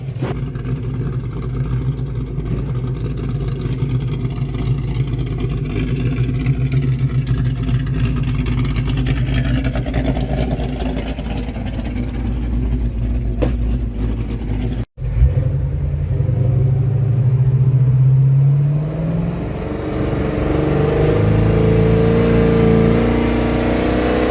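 A 1970 Pontiac LeMans with a 455 engine revs hard to blow out carbon, a loud, sustained rumbling roar that drops briefly, then surges again in rising pulls, with no talk over it.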